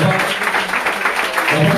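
Applause at a French collège ceremony, a dense crowd clapping steadily and fairly loudly throughout the short stretch with a faint murmur of voices underneath.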